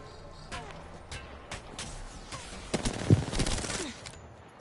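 Gunfire in the battle royale shooter Apex Legends, with scattered sharp shots and a short burst of rapid fire near the middle, moderately loud over quiet game ambience.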